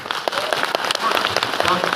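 Loud, dense applause from an audience at a debate event, continuous clapping that swells and stays strong from start to finish.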